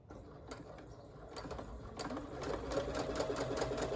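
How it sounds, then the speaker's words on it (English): A sewing machine stitches across a seam on a cotton project bag, its needle running in a fast, steady mechanical chatter that starts loud and close and grows denser toward the end. "we're just going to sew across this seam just to close that up"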